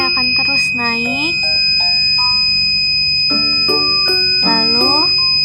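A microcontroller gas sensor buzzer alarm sounds with a sustained high electronic tone, while a person talks over it in rising and falling tones, with brief pauses, close and fairly loud.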